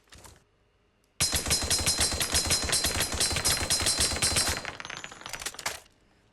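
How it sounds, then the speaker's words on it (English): A Chauchat machine gun empties a full 20-round magazine in a video game, a loud, rapid, evenly paced burst of close shots lasting a few seconds, followed by trailing mechanical clatter and quiet. "Observe the damage dealt by a full magazine of a Chow Chat."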